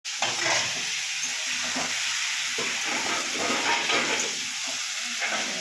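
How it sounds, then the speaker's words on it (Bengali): Potatoes fry in hot oil in a wok, a loud, steady sizzle that runs throughout with occasional stirring scrapes rising and falling beneath the hiss. "তেল দিয়ে দিয়েছে কড়াই। এবার কি দেবে? আলু ভাজা হবে।"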